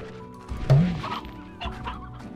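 Chickens in the Slime Rancher video game cluck in a few short, close bursts over a low, steady ambient background with no talk.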